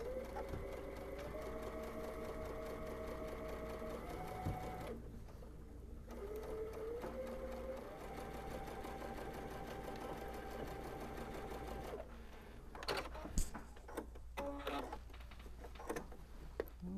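A sewing machine runs steady, close-up stitching on a holiday kitchen towel, its needle set to position 5.5 with a 2.5 standard stitch length, its whir pausing briefly midway before resuming.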